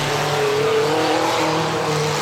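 A derby race car at a dirt-track event revs hard as it gets spun out, a loud, dense engine roar with wavering pitch sweeps, the car noise filling the whole short stretch without talk.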